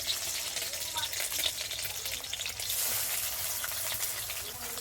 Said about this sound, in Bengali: আর এবার এই তেলের মধ্যে ডিমগুলো দিয়ে দেব